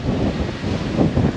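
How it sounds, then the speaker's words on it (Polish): Strong wind roars across the microphone on a windy mountain summit, a steady, close buffeting rush with no other sounds. "Jesteśmy na szczycie jakiejś wielkiej góry i bardzo wieje, bardzo, bardzo wieje."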